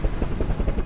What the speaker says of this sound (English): A helicopter flew to the Alta on October 2nd to bring them some supplies.